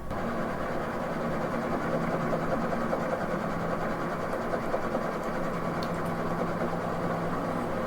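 Steady droning engine noise accompanies an autogyro's rotor being pre-rotated on the ground in the MSFS 2024 flight simulator, a continuous close hum with a faint rising whir and no speech.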